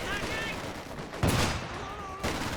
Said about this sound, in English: there goes the machine gun